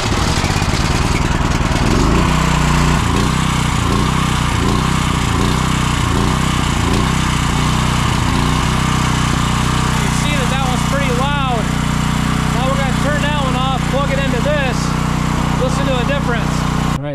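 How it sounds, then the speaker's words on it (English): A Champion gas generator runs loud and steady with a pulsing engine drone throughout, while people talk over it. "we wanted to show you guys with the Champion gas generator how loud this thing is running versus the other one"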